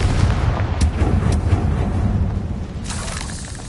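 A Confringo spell blast in the video game Hogwarts Legacy: a loud, rumbling explosive burst with crackling debris that fades over a few seconds, with a second sharp crack near the end.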